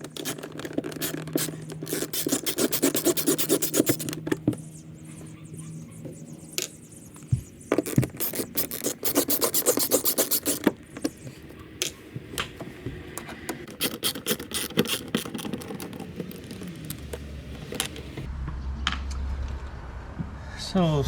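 A screwdriver scrapes and ticks while twelve screws come out of a boat's depth and temperature transducer mount, giving irregular close scratching and clicks over a low hum, with occasional talk.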